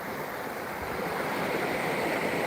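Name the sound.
small waterfall flowing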